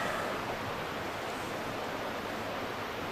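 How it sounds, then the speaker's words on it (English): River flowing nearby, a dense, even rush of water that stays steady and fairly faint throughout, with no other sounds standing out. "It's flowing right here."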